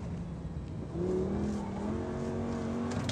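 A Lamborghini Gallardo on a race track with tall gearing, its engine holding a steady drone then rising in pitch as it revs and pulls through the gear, loud and close with no talk.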